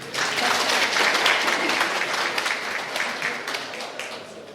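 An audience at a municipal election debate in Urjala breaks into applause, a broad sustained clatter of many hands that holds steady throughout and eases a little toward the close.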